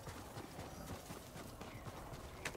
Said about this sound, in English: Thank you for watching my horse.